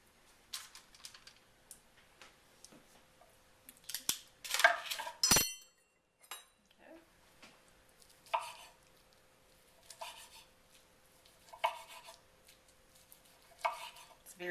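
Cooked Asian pork tenderloin, rested ten minutes, being sliced with a knife for a platter: a quiet run of soft cuts and taps on a board, with a few louder clatters near the middle and no talk.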